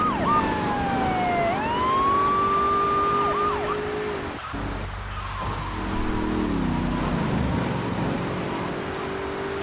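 Police car sirens in the video game GTA III, a loud wailing siren sweeping up and down, joined by a second steady siren tone, with car engine noise beneath and a brief low rumble midway.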